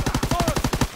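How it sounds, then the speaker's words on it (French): Rapid heavy gunfire in Call of Duty: WWII, a tight burst of about seven evenly spaced loud shots in roughly one second, close and sharp. "On essuie des tirs nourris."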